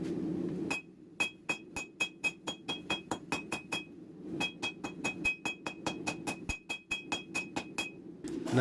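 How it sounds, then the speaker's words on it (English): A hot serpentine ball bearing Damascus steel billet is hammered by hand: two runs of a dozen or more evenly spaced, ringing metallic blows separated by a brief pause, loud and close. "I'm going to forge it by hand, try to get it as solid as possible"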